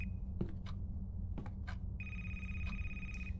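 A telephone rings inside the video game A Place, Forbidden: short electronic ring bursts sound first, then a sustained bright tone rings on, all over a low steady hum.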